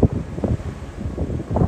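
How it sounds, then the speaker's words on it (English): Gusty wind on the summit of Albert Mountain on the Appalachian Trail buffets the microphone in low, rumbling surges, rising and falling irregularly outdoors with no other clear sounds. "A little windy, but I'm not complaining."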